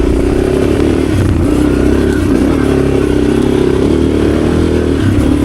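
A Suzuki DR650 motorcycle rides a single-track trail, its engine droning steadily and loudly up close with a rough, rumbling throb that rises and falls slightly as it goes, and no voices.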